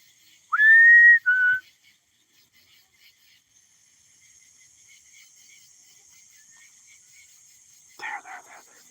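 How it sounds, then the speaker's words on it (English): A person whistles in a cornfield at night: one sharp rising whistle followed by a shorter second note, then a quiet stretch of faint insect hum, ending with a few brief distant chirping calls. "I'll do another whistle, guys."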